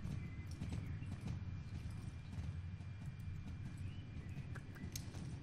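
Horse hooves clip-clop in a steady walking rhythm in the Star Stable video game, quiet and close, with faint bird calls in the background and no talking.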